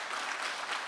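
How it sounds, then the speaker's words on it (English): Round of applause from a conference audience at the NSSA 2023 closing session, a dense steady wash of clapping filling the room for a brief moment, with no voices rising above it. "I just give Suzanne and the whole NSSA team a round of applause"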